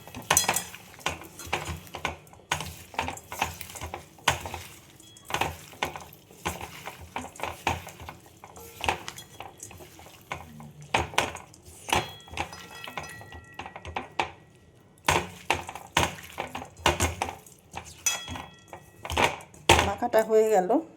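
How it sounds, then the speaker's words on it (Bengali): Hands squishing and mixing lentils, pumpkin greens, vegetables and mustard oil in a bowl, a dense run of close wet squelches and occasional clinks, with talking at times. "এগুলো সব মেখে নেব হাতে দিয়ে ভালো করে"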